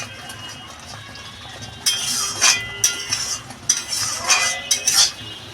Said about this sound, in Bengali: ভালো করে মিশিয়ে দেবো লঙ্কাটা